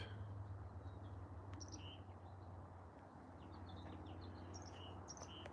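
Several birds chirp and trill outdoors in the Rocky Mountains, their short high calls scattered over a steady low background hum of rain and wind.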